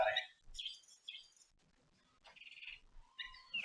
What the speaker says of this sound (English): the chirpy bird is all you're going to hear on the stream now until the batteries die